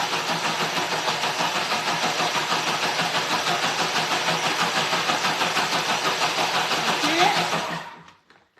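A kitchen robot mixer bowl with water inside runs at speed 10, producing a loud, steady whirring roar that holds for about eight seconds before cutting off abruptly.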